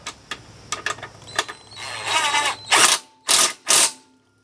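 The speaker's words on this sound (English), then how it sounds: "And I got my wrench stuck again." Up close, a ratchet wrench turns bolts on a Can-Am Outlander ATV rear differential: scattered single clicks, then a louder run of fast ratcheting, ending in three sharp separate bursts before silence.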